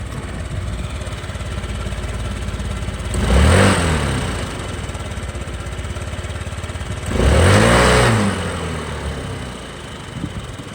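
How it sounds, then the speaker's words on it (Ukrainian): A 2019 Yamaha Gear fuel-injected scooter idles steadily up close, then its engine revs twice in short, smooth swells before settling back to idle. "Приємно працює двигунчик."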